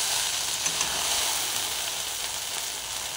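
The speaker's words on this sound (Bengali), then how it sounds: "এই যে ভেন্ডি আমি ভাজা করছি, একদিকে ভাজা হচ্ছে আর একদিকে আমার ভাত হচ্ছে।" Okra (bhindi) frying in a pan, a continuous bright hissing sizzle close to the microphone with a couple of faint pops and no speech.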